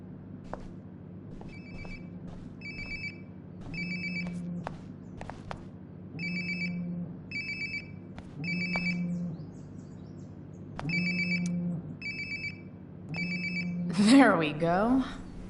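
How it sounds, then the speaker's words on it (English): Cell phone ringing in the Life is Strange video game, a repeating electronic ring in short paired bursts, moderately close, ending in a louder, swirling tone burst. "Sounds like my phone is definitely nearby."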